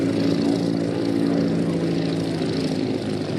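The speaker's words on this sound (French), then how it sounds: "Et s'alignant maintenant, eh ben, le Lockheed Electra" A Lockheed Electra twin-engine airplane lines up on the runway at the La Ferté-Alais airshow, its propeller engines droning loud and constant throughout with no break.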